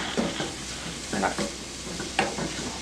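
Shrimp stirred in a hot pan, a soft sizzle under a few scraping stirs and light utensil clicks, close and fairly quiet, with no clear talk.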